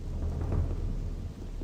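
Steady rain in the video game Gothic 2, a dense hiss with a low rumbling undertone like distant thunder, continuous and fairly loud.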